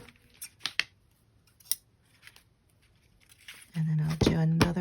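Scissors snip through a piece of crinkly paper for a vintage spring junk journal, a few short close cuts and rustles ending in louder handling noise.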